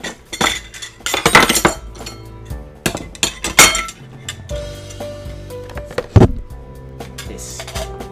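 Dishes and cutlery clink and clatter during washing in the game Asagao Academy, a run of sharp irregular metallic and ceramic knocks, some loud, with quieter rattles between.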